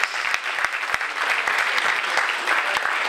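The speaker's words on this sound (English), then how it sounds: "let's just give them another round of applause as they cut the cake" Guests at a pastor's 40th anniversary celebration give a sustained round of applause as the cake is cut, loud, dense clapping filling the room without pause.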